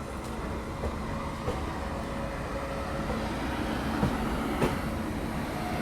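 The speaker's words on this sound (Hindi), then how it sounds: "WP7 लोकोमोटिव लीड कर रहा है महाराष्ट्र संपर्क क्रांति एक्सप्रेस को।" Maharashtra Sampark Kranti Express hauled by a WP7 locomotive from Valsad shed rolls past as a steady rumble of wagons, with faint clicks of wheels over rail joints and no talk.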